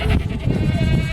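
Goats on a rural homestead bleating close by, a brief, loud, wavering cry lasting about a second.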